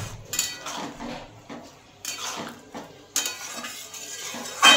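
Boiled chicken stomach is stirred in a pot, with a spoon scraping and clinking against the metal in short bursts and a sharper knock at the end.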